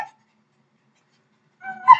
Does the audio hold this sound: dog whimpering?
yes